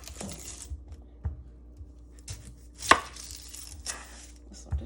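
Knife chopping onion on a cutting board, a few sharp scattered thuds separated by quiet gaps, close and fairly soft, with brief rustles between cuts.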